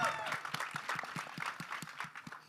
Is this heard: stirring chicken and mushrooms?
no